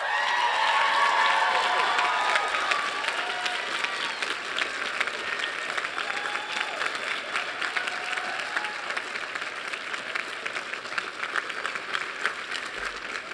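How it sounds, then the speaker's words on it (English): A standing commencement audience gives sustained applause, louder at first and then gradually thinning, with shouts, hollers and whistles scattered through the clapping. "Please stand and by your applause, shouts, and hollers, let them know just how much you appreciate all of them."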